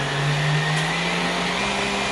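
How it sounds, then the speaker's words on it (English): A stand mixer fitted with its whisk attachment whirs steadily up close while beating a lemon drizzle cake batter, a loud, even motor drone with no pauses and no voices. "I am using the whisk attachment of my mixer."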